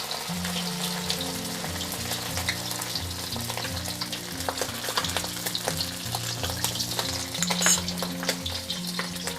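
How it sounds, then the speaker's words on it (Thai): Egg white and then yolk fry in hot oil for salted fried eggs, a dense, continuous crackling sizzle with small pops running steadily under quiet tonal background music. "แล้วเราก็ใส่ไข่ขาวลงไปเลยค่ะ และตามด้วยไข่แดงค่ะ"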